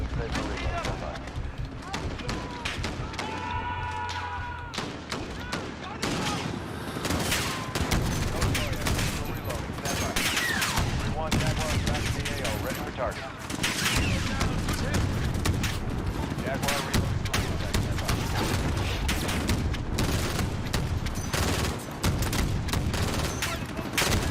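Dense gunfire in Call of Duty: Modern Warfare, with rapid automatic bursts and scattered shots running almost continuously and a voice heard at times beneath the shooting.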